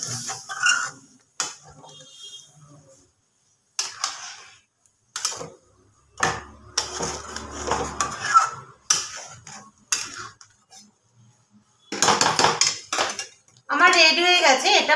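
A spoon clinks and scrapes against a pot while spiced potato curry (aloo dum) is stirred with water, in irregular bursts of metallic knocks separated by quiet pauses.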